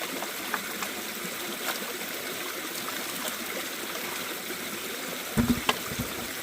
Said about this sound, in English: there's just too much, way too much water flow